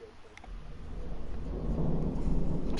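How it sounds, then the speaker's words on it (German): Rumbling thunder in the video game Borderlands 2, a low roar that swells steadily louder over a few seconds and holds near and heavy, with no voices. "Boah, shit, Donner gehabt."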